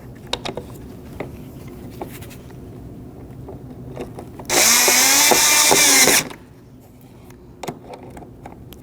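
A power tool tightens headlight bolts on a 2010-2024 Toyota 4Runner in a loud, steady whir of about two seconds, with quiet clicks and handling noises before and after.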